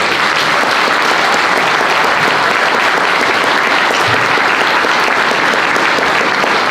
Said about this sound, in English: You're applauding John Adams